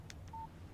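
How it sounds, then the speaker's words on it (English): Text message alert on a phone in the video game Alan Wake Remastered: two short soft blips followed by a single clear sustained electronic tone, brief and isolated over a quiet background. "Text message from Barry."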